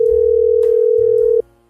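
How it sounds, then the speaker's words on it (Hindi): A single steady electronic telephone tone holds for about 1.4 seconds then cuts off abruptly, loud and close, with low background rumble and no speech. "बोगम, तुमने मुझे इस समय क्यों फोन किया?"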